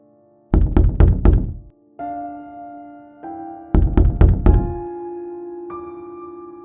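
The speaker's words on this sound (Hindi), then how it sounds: "दरवाजा तो बंद है, रुको मैं नॉक करता हूँ।" Two bursts of several sharp knuckle knocks on a closed hotel door, each burst followed by a sustained low eerie musical tone. The knocks are loud and close.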